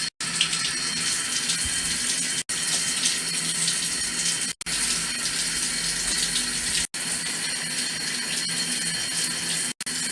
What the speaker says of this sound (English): Pretty sure she likes the shower as much as I do.